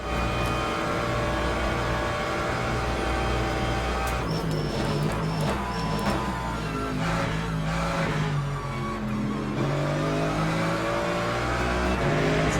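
Race car engines in the Le Mans Ultimate racing game drone loudly and continuously, with shifting pitch as cars, including a Corvette and a Lexus, accelerate and pass on the Le Mans straights; no talking.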